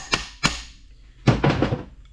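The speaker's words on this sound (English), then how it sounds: "And we'll hammer it down here" Two sharp hammer blows ring out close by, followed by a short burst of quicker, rattling strikes, as a guide is hammered into position on a Toyota Tundra or Tacoma AB60 transmission.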